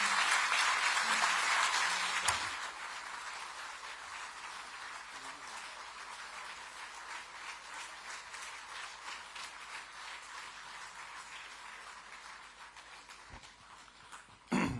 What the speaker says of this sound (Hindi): के आशीर्वचन हेतु तालियों के साथ स्वागत